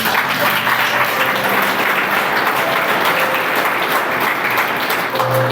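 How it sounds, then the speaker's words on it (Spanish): Loud, steady applause from a church congregation during a sermon, dense and continuous with a faint tonal hum or music underneath throughout. "den un fuerte aplauso, Señor"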